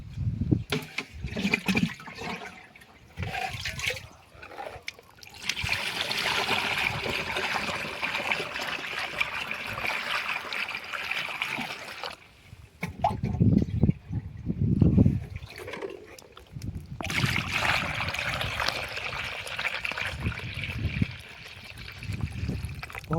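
Water pours and splashes steadily into a container of pesticide mix for a groundnut field, a continuous gushing stream in bursts with brief pauses, close and fairly loud.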